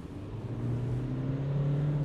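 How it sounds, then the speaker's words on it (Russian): A Hyundai Tucson SUV accelerates at full throttle from 40 km/h, heard from inside as a steady low engine drone that slowly rises in pitch and loudness, with no talking. "Вот давайте сейчас мы с 40 газку в пол."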